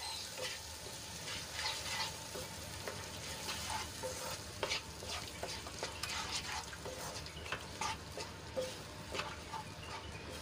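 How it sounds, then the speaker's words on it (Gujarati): Spice paste stirred and fried into onions in a pan for an Indian evening dish, giving a steady close sizzle with repeated scraping stirs and light clinks throughout, no talking. "પેસ્ટને સરસ રીતે ડુંગળીમાં મિક્સ કરી લઈશું"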